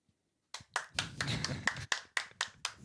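A small group clapping at a podcast recording, a handful of loose claps, close and fairly quiet, after a short silence.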